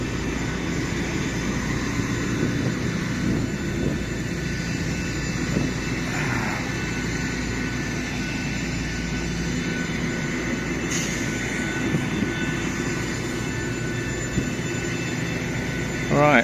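Steady broadband roar of Boeing 737 MAX jet engines heard from an airport area, continuous and moderately loud, a constant wash of engine noise with a brief rise near the end.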